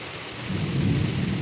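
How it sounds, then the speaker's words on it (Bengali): Heavy rain pours down in a dense, steady roar, with a low thunder rumble swelling beneath it. "ঝুম বৃষ্টি হচ্ছে"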